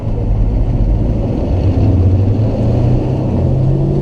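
A pickup truck engine runs steadily with a low, continuous rumble, close and loud throughout, with no talking.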